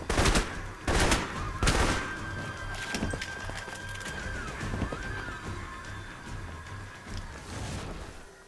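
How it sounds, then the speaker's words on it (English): Gunfire in the video game Alpha Protocol, a loud burst of several shots at the start, then a steady, dense crackle of distant shooting continuing throughout with occasional sharper reports. "Oh, they're just going to shoot me again."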